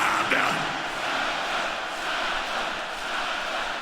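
Stadium crowd of about 50,000 at a concert, a broad sustained roar of voices chanting together at a distance, swelling slightly and holding steady throughout.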